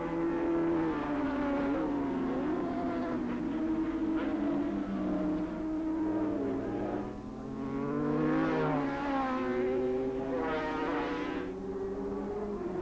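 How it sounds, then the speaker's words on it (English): A Hone Suzuki superbike racing at Oran Park in a 1983 Swann Series round, a sustained high engine whine rising and falling through gear changes, loud and continuous with no talk. "Phyllis absolutely riding the wheels off the Hone Suzuki there, keeping touch with Campbell in front."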